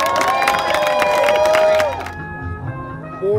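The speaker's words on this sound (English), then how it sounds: "applause for all our contestants." A crowd at a shrimp-eating championship cheers and applauds loudly with whistles and shouts for about two seconds, then the noise falls to a quieter murmur.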